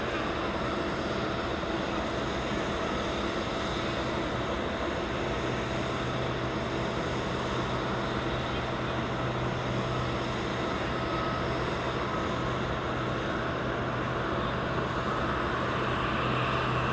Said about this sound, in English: We will get the 747 departing.